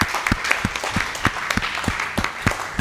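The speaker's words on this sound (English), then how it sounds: "A big round of applause." Audience applause at a US Snooker Masters final, a dense crowd clapping steadily with sharp individual claps standing out, sustained and fairly close throughout.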